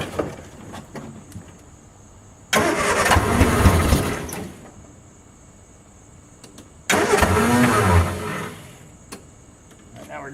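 A 1967 Triumph Spitfire revived from a junkyard is cold-started twice. Each attempt is a loud, close burst of cranking and engine noise lasting about four seconds, separated by a quiet gap.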